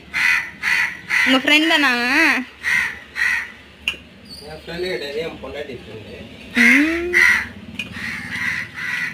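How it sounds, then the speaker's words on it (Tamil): Crows caw repeatedly in loud, rhythmic bursts close by while chicken fry is cooked outdoors, with people chatting in between and over the calls. "காக்கா வந்துருச்சு."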